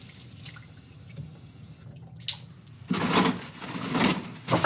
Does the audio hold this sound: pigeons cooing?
no